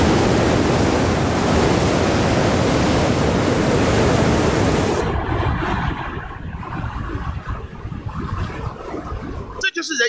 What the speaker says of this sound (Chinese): 当巨大的潮声和观众的欢呼声同时轰鸣在你的耳边的时候，才能理解一线潮的气势